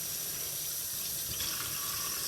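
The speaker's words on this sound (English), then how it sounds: "we just gonna rinse the salmon real good" Tap water gushing steadily into a sink while wild-caught salmon is rinsed, a continuous close splashing rush with no talk.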